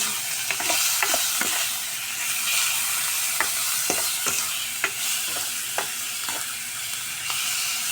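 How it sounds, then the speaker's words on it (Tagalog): A spoon stirs ampalaya leaves frying in a pan, with steady sizzling beneath a dozen scraping, clinking strokes at an irregular pace, close up and without talk. "haluin lang natin."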